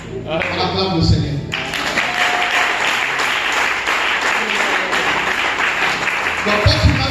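A congregation applauds during a French-language church worship service, a steady wash of many hands clapping throughout, close and loud, with a voice speaking and music faintly underneath.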